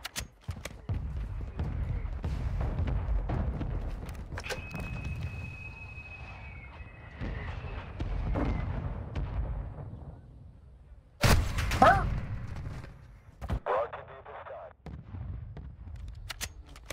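Friendly mortar strikes in a Call of Duty video game land as a run of loud, booming explosions and cracks spread across the span, with scattered gunfire and a sharp blast near the end.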